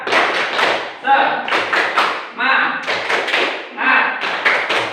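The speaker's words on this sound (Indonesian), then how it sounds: "Boleh tepuk tangan dulu" A classroom audience claps in a rhythmic, patterned clap cheer during a school teaching session, sharp loud bursts in repeated groups, with some voices mixed in.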